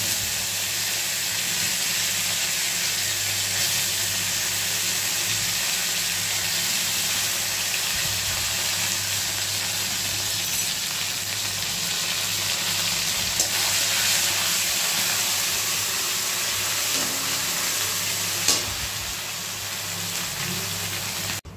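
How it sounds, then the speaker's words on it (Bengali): Cumin seeds, a bay leaf and ginger-cumin paste sizzling in hot oil, a loud, steady close-up frying hiss that holds without a break throughout. "তেল গরম হয়ে গেছে, এর মধ্যে জিরে ফোড়ন দেব, আর একটা তেজপাতা দিয়ে দেব, দিয়ে মশলাটা দেব।"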